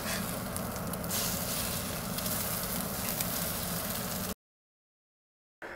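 Food sizzles and fries steadily in a hot cast iron skillet, a constant crackling hiss that cuts off abruptly partway through before briefly resuming.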